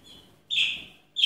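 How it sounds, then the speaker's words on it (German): Birds in an indoor bird room early in the morning give high, thin chirps close by: a faint call followed by two louder, clear tweets, each lasting a fraction of a second, with no talking. "Draußen sind auch die Vögel."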